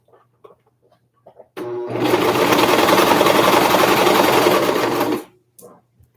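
Domestic sewing machine stitching fabric for pajama pants: a steady, loud run of fast needle chatter lasting about three and a half seconds, with faint handling clicks before and after.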